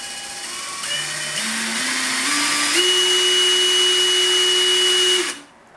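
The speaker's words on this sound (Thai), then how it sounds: "มันจะหมุนได้ช้ามากๆนี่คือข้อดีของ สว่านคัดนะครับ" A small cordless clutch drill, Dewalt DCF601 or Makita DF032, whirs with a motor tone that steps up in pitch in stages from low speed, then holds a steady high whine before cutting off.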